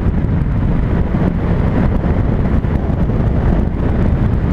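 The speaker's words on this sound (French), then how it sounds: "Il y a du vent, hein." Steady, heavy wind rush buffeting the microphone while riding a 2019 Honda CB500X motorcycle at full throttle, with a low engine rumble underneath, continuous and loud throughout.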